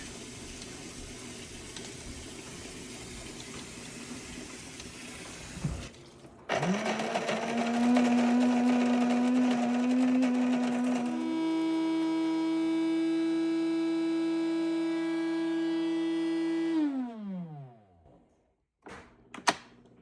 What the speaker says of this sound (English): The grinding section is complete.